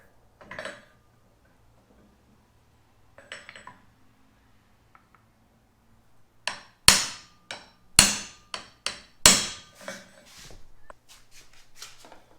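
Sharp metallic hammer taps ring out on a 1.25 inch socket as it seats a center support bearing on a first generation Toyota Tacoma driveshaft, a couple of isolated knocks followed by a quick series of louder strikes.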